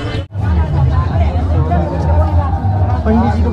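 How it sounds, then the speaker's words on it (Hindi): Dense crowd at Nidhivan in Vrindavan, a continuous close hubbub of many overlapping voices and chatter, loud and unbroken, with a nearby speaker talking over the babble. "सीन ये कि बहुत ज़्यादा भीड़ है भाई यहाँ पे"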